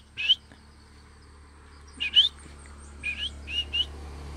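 Philippine hanging parrots in a tree give sharp, high-pitched chirping calls in short bursts of one or two notes, spaced apart against a quiet background hum.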